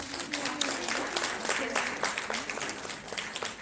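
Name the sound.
audience applause for a speaker coming on stage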